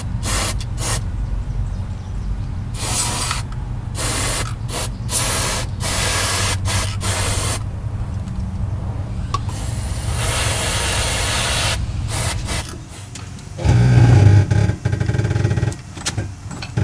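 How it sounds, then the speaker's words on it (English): Electric cleaner is sprayed into a Cobra's alternator in sharp, hissing bursts of varying length, close and loud, separated by brief pauses and faint engine-bay rumble. "I'm going to spray this right into the alternator"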